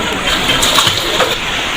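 Swollen flood river water rushes and churns along a stream choked with drifting logs after a landslide, a loud, continuous gushing wash with sloshing bursts.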